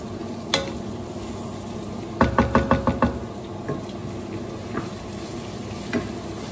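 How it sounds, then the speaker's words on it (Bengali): Chopped onion frying in a pan with ginger and garlic for khichuri gives a steady close sizzle, broken by a quick run of sharp spatula knocks against the pan and a few scattered taps, with no voices. "এখানে আমাদের আদা রসুন দিয়ে এটা কিছুক্ষণ ভাজবো"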